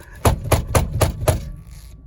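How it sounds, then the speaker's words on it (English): The steering wheel of a 2014 Honda Odyssey is slammed up and down, giving five quick, evenly spaced loud thumps close by, followed by quiet. "you slam the steering wheel up and down, but don't go too crazy, and that shakes up the grease in there"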